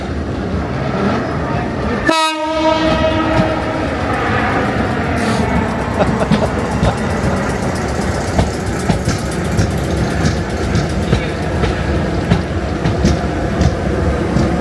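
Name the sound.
Class 455 commuter train arriving at Waterloo station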